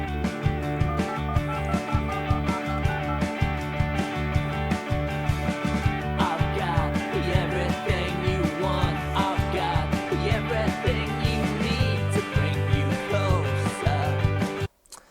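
First studio mix of the opening track from a fifth album: a full, dense band arrangement with a steady pounding beat and layered sustained tones, loud throughout before cutting off abruptly at the end.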